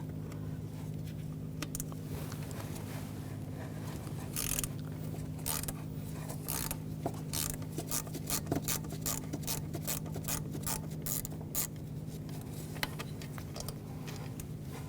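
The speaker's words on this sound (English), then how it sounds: "On the throttle body, there is some bolts going up. You want to take those out. I'm going to use a T30 socket" A T30 socket on a ratchet works the upward-facing throttle body bolts of a 2011–2018 Volkswagen Jetta 2.0L TDI, giving close, repeated short scraping and clicking bursts over a steady low hum, with no talk.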